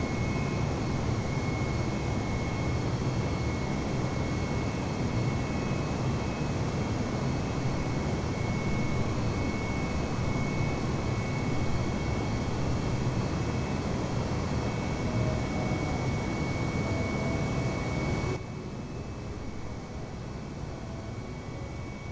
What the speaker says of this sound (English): Let's get that throttle up as we take off to Medina.